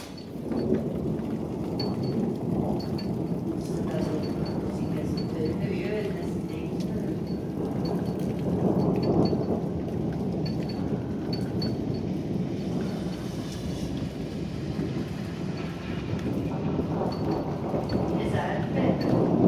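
A thunderstorm over Zürich in June 2015: steady heavy rain pours without a break while deep rolling thunder rumbles underneath, swelling and fading over the whole stretch.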